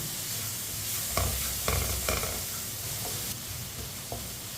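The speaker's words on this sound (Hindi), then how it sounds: "एक मिनट के लिए मसालों को भी मैंने पका लिया।" Spices frying on low heat in a pan for an anda karela dish, a steady close hiss with a few scraping stirs and light clacks of a spoon, no talk.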